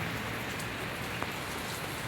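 Rain falls steadily on a surface in a dense, even patter that does not let up, with no voices.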